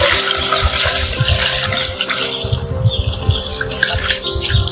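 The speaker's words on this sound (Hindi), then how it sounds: "इसका हम पानी खाली कर देते हैं।" Water is emptied out of a rubber hot water bottle in a steady, gurgling pour that splashes continuously for several seconds at close range, with no talking.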